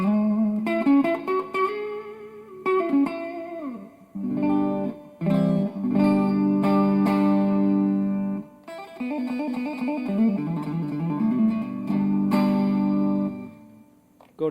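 An electric guitar plays through the clean channel of a Peavey Classic 30 tube amplifier, single notes and chords ringing out in short phrases with brief gaps between them.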